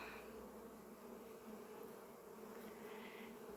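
A steady, dense drone of many honey bees buzzing together, continuous and even, with no voices.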